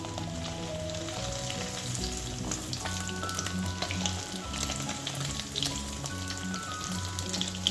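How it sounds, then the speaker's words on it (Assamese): Paneer pieces sizzle and crackle continuously in a hot pan, a busy close frying sound with small pops throughout, no talking. "পনীৰখিনি মোৰ ভাজি হৈ গ'ল।"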